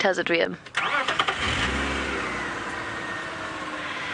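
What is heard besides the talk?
safari vehicle engine starting and revving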